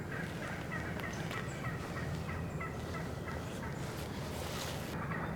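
Wild turkey gobbler in a Tennessee field gobbling repeatedly, its rattling calls carrying from a distance over steady outdoor ambience and low rumble, with no voices.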